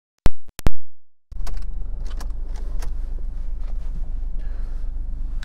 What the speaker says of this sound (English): Hop inside and get the vehicle fully started up here for us.